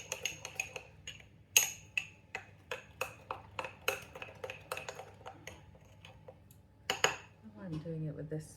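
Spoon clinking against a bowl while pear syrup is mixed, giving a quiet series of sharp, irregular metallic taps and scrapes, with a faint low murmur near the end.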